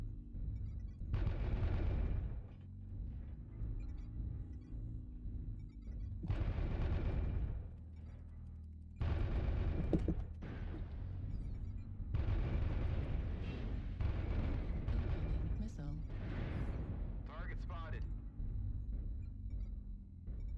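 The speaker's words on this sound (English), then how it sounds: "Warning incoming missile." Incoming missiles strike in the MechWarrior Online video game, with repeated loud rumbling blasts and booming impacts in long bursts separated by short quieter gaps, dense and continuous for about twenty seconds.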